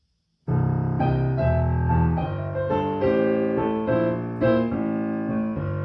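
After a brief silence, blues piano enters playing a repeating right-hand riff variation with shifting chords, steady rhythm and even volume, no talking.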